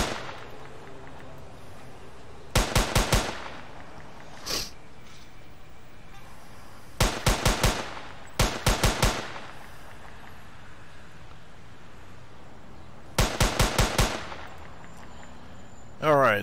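Machine gun fire in an Unreal Engine 4 shooting game comes in four short, loud bursts of rapid evenly spaced shots, each lasting about a second, with quieter gaps and one lone shot between them.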